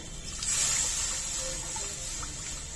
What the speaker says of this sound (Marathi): यात मी अजून एक वाटी पाणी घालते